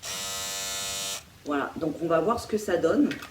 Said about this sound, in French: tu vois, c'est une tondeuse rasoir